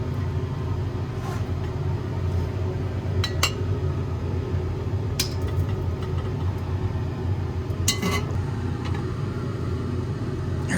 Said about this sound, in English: I was able to rinse it off easily by adding hydrochloric acid and stirring it